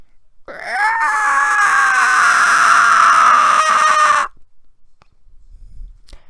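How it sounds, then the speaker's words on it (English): A loud, shrill screaming screech with a wavering, sustained pitch lasts about four seconds, then cuts off abruptly into near silence. "They heard a loud, screaming, screeching that sounded a little bit like this."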